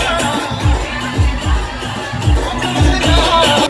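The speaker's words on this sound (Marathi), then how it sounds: "नुसती गर्दी विषय डायरेक्ट" A dense crowd at a Ganpati arrival procession, loud and close, with rhythmic drum beats pounding beneath shouting and cheering voices.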